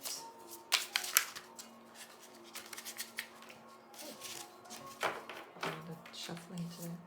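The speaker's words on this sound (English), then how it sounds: "Shuffling today." Tarot cards being shuffled in the hands, a run of soft papery riffles and taps at close range, with quiet background tones underneath.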